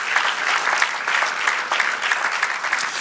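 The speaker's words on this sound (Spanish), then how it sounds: "dale aplauso a nuestro Dios" A church congregation applauds God, a dense, loud, steady wash of clapping hands that fills the whole stretch without a break.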